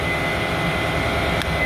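A Hammelmann HDP 304 electric high-pressure pump runs with a steady, loud, close mechanical drone, with one brief click near the end.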